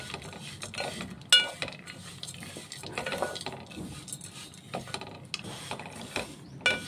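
Ingredients for chikki being fried and roasted in a pan, heard as soft scraping and rattling of a spatula stirring against the metal, with intermittent sharper clinks at a quiet, close level.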